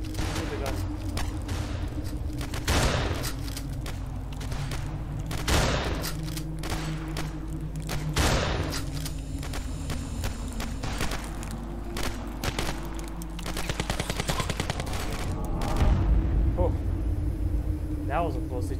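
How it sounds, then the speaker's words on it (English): Gunfire in the video game Ravenfield, with loud, repeated shots and bursts over a constant rumble of battle noise, while a person talks throughout. "Shoot the gun."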